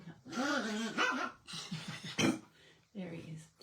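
A dog gives a few barks and yips close by while a person speaks over it indoors, the barks mixed in with the talking.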